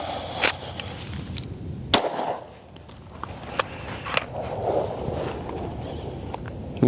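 Shots from a Palmetto State Armory Dagger Full-Size-S pistol at an outdoor range, a few sharp, loud cracks spaced irregularly, with a quieter gap between them and background rustle.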